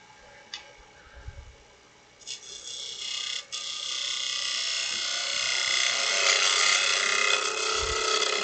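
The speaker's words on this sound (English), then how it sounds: "Back to the large detail gouge to clean all that up." Large detail gouge cutting a wooden snowman on a lathe, starting with a few faint ticks and taps, then settling into a steady, bright hissing cut that builds and holds to the end.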